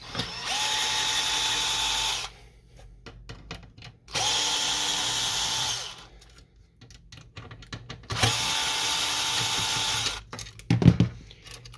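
A power screwdriver whirs in three steady bursts of about two seconds each, removing screws from an HP LaserJet 1020 printer, separated by pauses with faint handling clicks and rustles.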